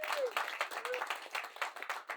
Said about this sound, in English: Let's get a round of applause, huh?